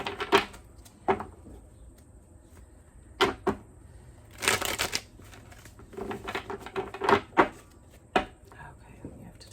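Soft bursts of tarot cards being shuffled and riffled, irregular and close, with quiet whispery sounds between them.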